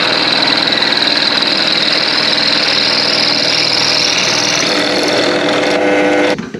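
A power drill whirs steadily and loudly for about six seconds, boring a 10mm hole in metal on a Ferrari 512 BBi brake part, then winds down and stops near the end.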